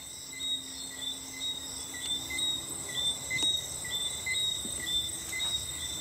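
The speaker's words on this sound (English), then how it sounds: "you can hear those like crickets and frogs and stuff outside" Crickets and frogs chirping outdoors at night near the old dungeon of Rose Hall, a continuous layered chorus of high steady trills from several insects, fairly faint and close, with a few soft clicks and taps.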